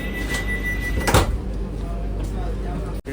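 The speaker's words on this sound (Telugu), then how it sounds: "మన డోర్లు అయితే క్లోజ్ అయిపోయింది" A Vande Bharat Express train's sliding door thumps shut over a low vehicle rumble, with voices murmuring in the background.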